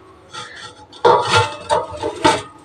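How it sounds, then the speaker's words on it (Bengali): Metallic scraping and clattering as a metal bowl is set over a hot pan, with a sharp clank followed by several rubbing, knocking bumps, close and fairly loud. "গামলা দিয়ে আবার ঢেকে দিচ্ছি"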